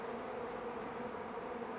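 Honeybees freshly released from a package swarm around the hive, a continuous dense buzz, steady and moderately close, with no other sounds.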